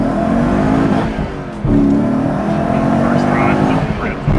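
A Lexus IS300 with a swapped 3UZ V8 engine drives on the road with a loud, steady engine drone, a brief dip in throttle before it pulls again, close to the microphone.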